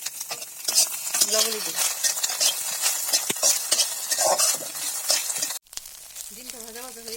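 Egg frying in a pan for an egg paratha, a steady loud sizzle with stirring scrapes throughout, pausing briefly near the end while someone speaks over it.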